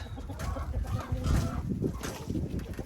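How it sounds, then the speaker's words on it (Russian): Several young hens cluck softly and irregularly nearby in an enclosure, a busy murmur of low clucks with occasional brief higher calls. "Здесь тоже сидят молодые курочки."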